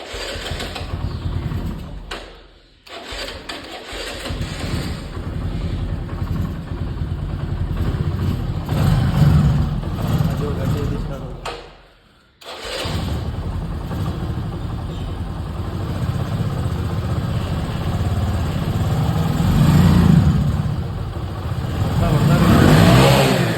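A motorcycle engine runs and revs in repeated surges. A loud, continuous rumble dips into two short near-silent gaps, then picks back up and swells again.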